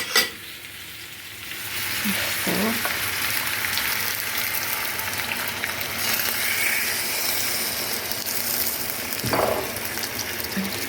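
Marinade sauce poured over stuffed peppers in a hot pan sets off a loud, continuous sizzle, with a few stirring clinks and splashes rising briefly above the steady frying hiss.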